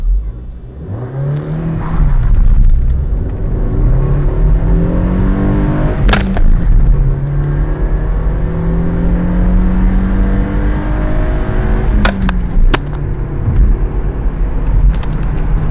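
An Opel Astra accelerates hard from 0 to 100 km/h, recorded from inside the car. The loud engine note climbs steadily through several gears, with brief drops at each shift, and keeps rising to the end.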